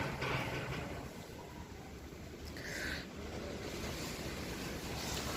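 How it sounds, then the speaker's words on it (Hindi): Strong wind blowing outdoors during the monsoon season, a steady rushing roar with gusty swells and microphone buffeting that stays loud and continuous throughout. "हवा देखिए कितनी तेज़ है ना।"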